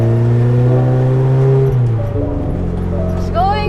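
Mitsubishi Lancer project car driving through town, its steady engine drone shifting pitch as it changes gear, with a person talking over it inside the cabin.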